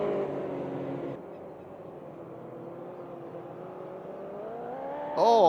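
A Group 5 race car engine in a DRM race at Cleveland Airport holds a moderate, buzzy harmonic whine that slowly climbs in pitch as it accelerates, with a louder burst at the very end.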